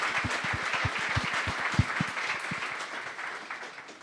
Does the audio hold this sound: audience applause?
yes